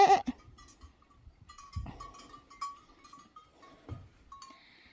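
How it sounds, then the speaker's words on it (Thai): Several sheep bleat close by along a hiking trail in Norway, with a few short calls spaced across the stretch over quiet outdoor background. "แกะใกล ๆหลายตัวมาก นี่ซุ่มกันอยู่ตรงนี้"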